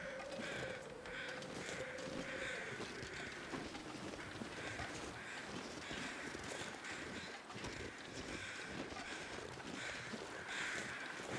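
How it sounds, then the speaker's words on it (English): Crows caw in the wilderness survival game The Long Dark, rough calls repeating at a distance over a constant bed of wind and hiss. "Wait, where are the crows? Oh, they're further up here."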